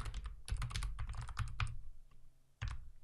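Quick bursts of computer keyboard typing as a password is entered, close and crisp keystrokes in rapid runs with a brief pause before a final few taps.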